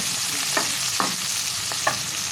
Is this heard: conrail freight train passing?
no